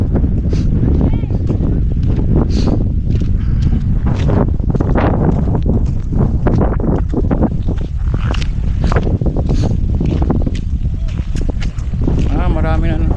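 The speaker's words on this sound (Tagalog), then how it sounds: "Sobrang lakas ng hangin" Strong wind near an airport buffets the microphone with loud, continuous low rumbling, and voices talk faintly underneath the roar.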